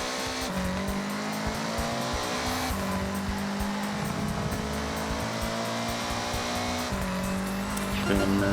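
Datsun B-Class rally car racing in the video game Forza Horizon 6, its engine droning steadily and shifting pitch through gear changes, with tire squeal beneath it across the whole run.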